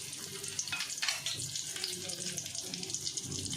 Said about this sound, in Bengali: ওই তেলের মধ্যে তেজপাতা আর একটা শুকনো লঙ্কা দিয়ে দিলাম